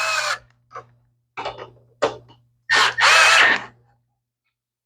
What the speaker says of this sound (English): so I usually just use the screw gun to get it started